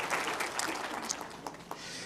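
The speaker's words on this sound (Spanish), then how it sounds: "démosle un aplauso merecido a cada uno de ellos" Church congregation applauding volunteers at a Sunday service, a moderate spread of scattered hand claps with a few sharper individual claps standing out, fairly soft and tapering over two seconds.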